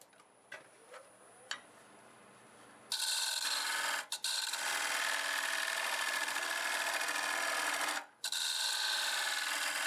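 A black locust bowl spins on a wood lathe, with light scraping taps at first, then a loud, steady cutting hiss from the tool on the wood, broken by two brief pauses.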